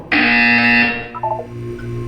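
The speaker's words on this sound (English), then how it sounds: "You will hear a buzzer." A single loud electronic buzzer in the video game Portal 2 blares for about a second, a harsh steady tone, then cuts off, followed by a few quieter electronic beeps.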